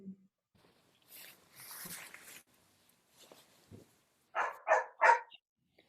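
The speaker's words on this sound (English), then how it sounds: "Somebody's puppy is saying hello." A puppy gives three loud, close yapping barks near the end, after a stretch of quiet with brief faint voice sounds, heard during an online meditation call.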